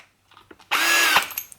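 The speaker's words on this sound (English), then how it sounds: "I need to go with the hammer drill function" A Black and Decker 18V hammer drill (BDH18) in hammer drill mode whirs loudly and steadily for about half a second after a few small clicks and handling knocks, then stops abruptly.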